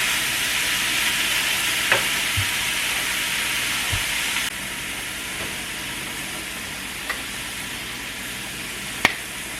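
Round steak and onions fry in a pan for a beef stir fry, a steady broad sizzle and hiss with a few faint clicks and taps of stirring.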